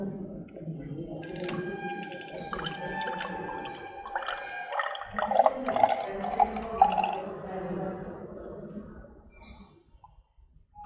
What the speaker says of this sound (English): In that step, slowly added the distilled water.